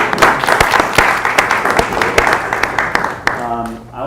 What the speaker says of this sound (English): A little round of applause for those guys.